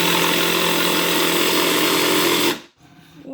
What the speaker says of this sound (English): you're just gonna go cut this out on the jigsaw